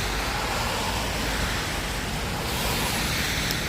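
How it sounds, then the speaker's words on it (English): A city bus pulls up amid street traffic, a steady loud rumble of engines and road noise with no voices. "Bus is here."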